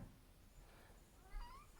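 A house cat lets out a faint, rising meow near the end, a short tonal call heard alone against quiet room noise after a stretch of near silence.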